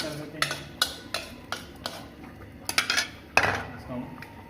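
A spoon scrapes and clinks against a metal pot while Pakistani-style chicken handi is stirred, giving sharp irregular knocks close by with a soft stirring sound between them.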